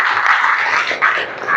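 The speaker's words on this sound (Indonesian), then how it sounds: "Tepuk tangan buat kalian semua." Students applauding together at the start of a morning sports lesson, a dense steady patter of many hands close by, continuous without pause.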